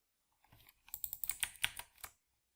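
Quick, light keystrokes on a computer keyboard enter a barcode in a short burst of about a dozen close, crisp taps, with no voices.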